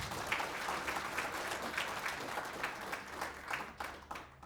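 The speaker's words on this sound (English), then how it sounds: "A warm round of applause, please." A conference audience gives steady applause, a dense patter of many hands clapping at moderate distance that carries on throughout without talk.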